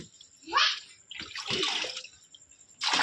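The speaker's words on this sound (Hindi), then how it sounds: "ये पानी हमने बाल्टी में डाल के और फिर खाली करके" Water pours into a bucket at home in short splashing bursts, three separate gushes with brief quiet gaps, close and clear with no talking.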